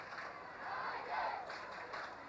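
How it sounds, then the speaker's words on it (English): Football crowd at a 1983 Australian rules match between Glenelg and Norwood roars and cheers in a broad, sustained wash, swelling in the middle and staying loud throughout without a break. "Crowd very pleased at the moment."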